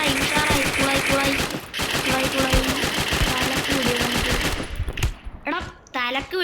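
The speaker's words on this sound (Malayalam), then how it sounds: "എടാ തലക്ക് വെടിവെക്കാൻ പോയാൽ ഞാൻ എൻ്റെ തലക്കാണല്ലോ അവൻ വെടിവെച്ച" Rapid automatic gunfire from the Free Fire mobile battle royale game, dense repeated bursts of shots filling the first four seconds, then scattered single shots and game effects toward the end.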